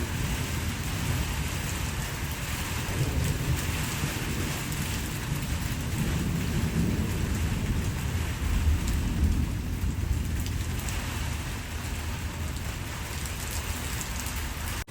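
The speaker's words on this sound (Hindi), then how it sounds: "दोस्तों चेक करो बारिश भी है" Steady rain pours down in a Pakistani village with a dense, continuous hiss and a low rumble underneath, suggesting distant thunder; no voices.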